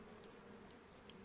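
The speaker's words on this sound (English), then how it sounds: "The sound of buzzing bees can be heard." Bees buzzing, a faint continuous droning hum with a steady tone, heard alone against a quiet background.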